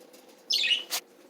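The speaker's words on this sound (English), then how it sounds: "today you are going to meet the birds of my grandparents" Pet birds kept by grandparents give a quick chirping burst followed by a short flutter of wings, close and fairly faint over a quiet background, lasting about half a second.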